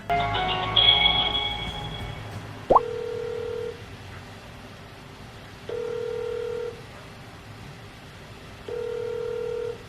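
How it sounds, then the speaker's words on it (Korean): A phone call is dialed with a burst of keypad tones, then a steady ringback tone repeats about three times at even intervals while the call connects, clear and without speech. "전화통화 연결부터 해보도록 하겠습니다."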